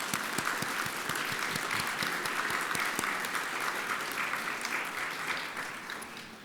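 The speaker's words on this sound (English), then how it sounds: "Let's give them a round of applause." Audience applause at the 2022 APhA Immunization Champion Awards ceremony: a sustained, dense round of clapping from a crowd that tapers off slightly toward the end.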